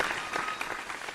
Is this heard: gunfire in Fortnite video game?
no